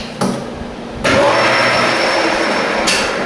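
A metal lathe spins up to about 600 RPM to turn a tube, a motor whine stepping up abruptly and then holding a steady, loud broadband drone with a faint high tone, close by and without talk.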